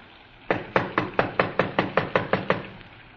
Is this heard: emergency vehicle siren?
no